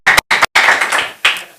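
A single person claps hands close by, two quick sharp claps followed by a longer run of rapid clapping and one final clap, loud and dry with no talking.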